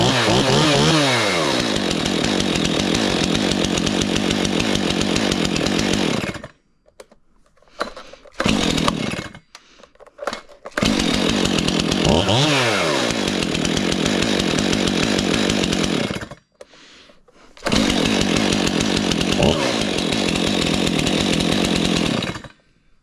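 A Stihl chainsaw fires up cold on one pull and runs loud and near, its engine revving hard in sustained bursts with a few short gaps where it drops to idle or cuts out.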